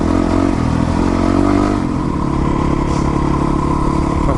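Yamaha WR450F dirt bike riding through snow, its engine droning loud and steady with a rise in revs partway through, plus clattering and scraping over the throbbing exhaust.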